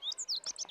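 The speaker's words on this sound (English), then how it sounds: "That one is actually a bunting." Bunting bird chirping in a cartoon: a rapid series of short, high tweets, clear and close, alone for under a second.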